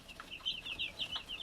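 Cornish Cross chicks peeping: a quick series of high, thin chirps, about half a dozen in under two seconds, close and fairly quiet.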